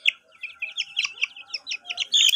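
Chickens let loose on a home plot give a run of quick, high chirping peeps, a steady string of short calls growing a little louder near the end, with no talking.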